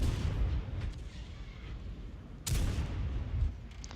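Heavy tank cannon fire in World of Tanks, two deep booming shots about two and a half seconds apart, each with a rumbling low tail, loud and close with no talk.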